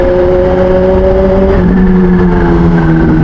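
Kawasaki ZH2 motorcycle launching hard under launch control, its loud engine whine climbing in steady harmonic tones, easing briefly and then rising again near the midpoint, loud and close throughout with no talking.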